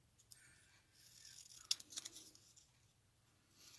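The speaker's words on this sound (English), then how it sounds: "I'm just going to take a pair of scissors and cut off that top part" Scissors snip through a paper craft pocket in a few quiet, close cuts in a still room.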